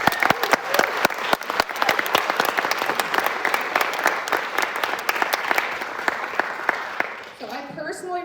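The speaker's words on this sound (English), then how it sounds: "Let's give her one more round of applause." An audience at a Mother's Day musical matinee applauds steadily and loudly for several seconds, the clapping fading near the end as a voice begins.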